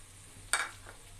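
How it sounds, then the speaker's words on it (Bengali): Potato and pointed gourd frying in oil with lentils, stirred once with a single loud scrape and sizzle burst midway, then a fainter stir near the end over a low background hum. "আমি এখানে প্রথমে আলু আর পটলটা দিয়ে সুন্দর করে কষিয়ে নেবো"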